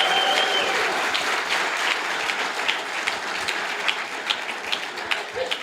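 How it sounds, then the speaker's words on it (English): Audience applause for Josh at an apprenticeship awards ceremony, loud dense clapping that starts strong and slowly thins, with more distinct individual claps standing out near the end. "Give him a big round of applause"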